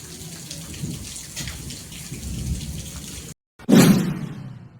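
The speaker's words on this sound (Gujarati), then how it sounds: "વીજળી થાય છે ને હરુડે છે જો" Steady rain hisses and patters throughout, then after a brief silence a loud lightning-driven thunder crack booms and rumbles away as the rain continues.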